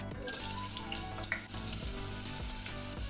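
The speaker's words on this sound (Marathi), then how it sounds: "जरासं तो कांदा ना भाजू देत चांगला." Onion frying in oil inside a new heavy stainless steel pressure cooker for veg pulav, a steady close sizzle running unbroken throughout with faint stirring clinks.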